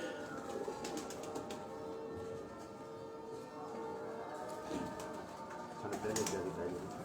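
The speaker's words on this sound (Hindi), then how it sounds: "जो फिरोजपुरी कबूतर आपको दिखाया था अली भाई ने, ये उसकी मादा" A female Ferozpuri pigeon coos against a busy outdoor background with scattered bird calls and faint traffic noise, while people talk nearby.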